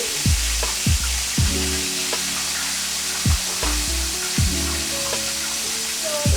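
Squid frying in hot oil gives a steady, close sizzle, with repeated sharp crackles and pops at irregular intervals over the continuous hiss.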